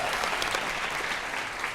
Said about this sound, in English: you have to clap the same for every panel member